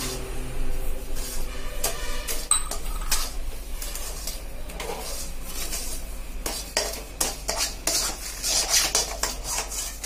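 Ashoka halwa being stirred in ghee over a slow flame, a spoon scraping and clinking against the pan in irregular strokes, with faint sizzling underneath and no talking.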